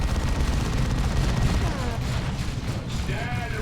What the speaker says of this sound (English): The Assault Cannon of the Terminators suppress the Ogrins there.